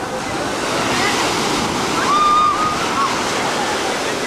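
Ocean surf washing ashore at high tide on a Hawaiian beach, a steady loud roar of breaking waves with wind across the microphone and no pause in the wash.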